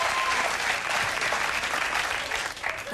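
Studio audience applause on a late night talk show in 1999, a steady, dense wash of clapping filling the room from start to finish, dipping slightly near the end.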